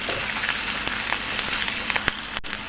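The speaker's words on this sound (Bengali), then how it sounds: "তারপর মশলাটাকে আবার কষিয়ে নিচ্ছি।" Turmeric and chili powder masala sizzling steadily in a pan for cabbage bhaji, a continuous close crackle with scattered sharp pops and a brief stir near the end.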